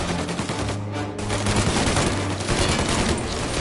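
Dense, sustained gunfire from the Mafia Definitive Edition video game, rapid overlapping shots and automatic bursts forming a loud continuous fusillade throughout, with no talk.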